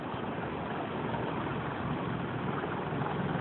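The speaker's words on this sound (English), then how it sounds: "We test F-18 engines here on a daily basis" An F404 jet engine for the F/A-18 runs steadily in a test cell, giving a dense, continuous broadband roar with strong low rumble, even and unbroken throughout.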